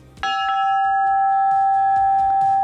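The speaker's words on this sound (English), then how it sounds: "when the trolley rings its bell, they ring this bell right back" A house bell rung in answer to a passing trolley's bell, a loud, close metallic strike at the start that settles into a sustained ringing tone, with rhythmic clanks behind it.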